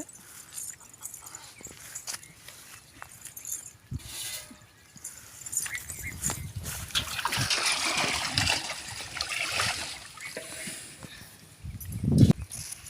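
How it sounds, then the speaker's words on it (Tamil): Freshly harvested radishes with their leaves being swished and rinsed in farm pond water, irregular splashes and trickling that build in the middle and end with a louder splash. "முள்ளங்கி கிழங்குல உள்ள மண்ணெல்லாம் வந்து சுத்தம் பண்ணிக்கலாம் இப்படி அலசு இலையோடே"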